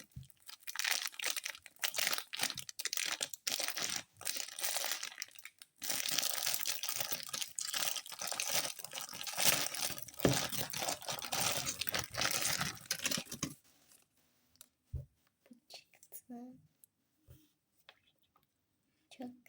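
A plastic bag is torn open and crinkled up close, with dense crackling and rustling for about thirteen seconds, followed by quieter scattered handling noises.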